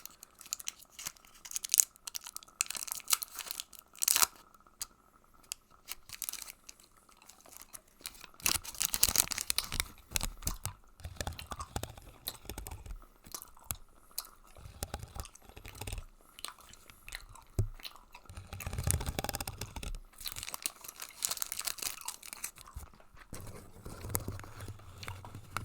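Close, quiet crinkling and tearing of a Pokémon card pack wrapper mixed with wet, rhythmic gum chewing, in intermittent bursts across a long stretch, intimate and soft.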